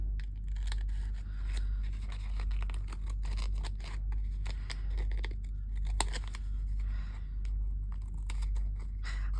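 Scissors snip paper edges repeatedly at close range, quick crisp cuts in an uneven rhythm over a low steady hum.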